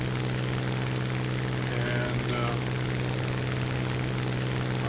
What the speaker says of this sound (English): I'm not whipping this plane, War Emergency Power, WEP, but I'm pushing it pretty hard.